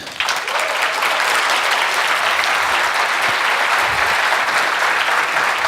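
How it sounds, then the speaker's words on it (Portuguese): A large audience gives continuous, loud applause for speaker Davi Pinto, a dense and even wash of clapping lasting the whole stretch. "Palmas para ele, gente."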